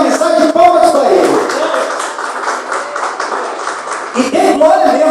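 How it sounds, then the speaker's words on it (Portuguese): Church congregation clapping their hands in steady, continuous rhythm throughout, loud and close, with singing or voices carrying over the claps. "Palmas para Jesus, irmãos. Palmas."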